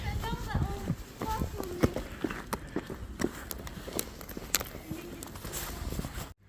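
Horse hooves clip-clop on a city sidewalk during a ride through town, a steady run of sharp, close knocks over street noise, with people talking at times before the sound cuts off near the end.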